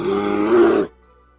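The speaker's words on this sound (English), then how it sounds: "bear," A bear's deep, rough roar or growl, one sustained loud call of under a second that swells slightly before cutting off, heard alone.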